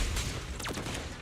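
Gunfire in the video game Trauma Zone, a short burst of shots with a sweeping whoosh through the middle, loud and close over a steady rumbling game backdrop.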